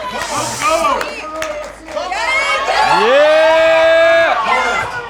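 A crowd cheers and shouts loudly for a pro climber's grip strength world record attempt, with overlapping yells, whoops and a long rising shout, a brief dip, then swelling again.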